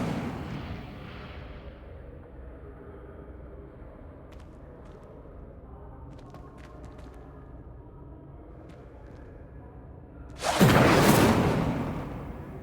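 The Incendio fire spell bursts out in Hogwarts Legacy, a sudden loud roaring whoosh of flame near the end after a quiet, low ambient stretch.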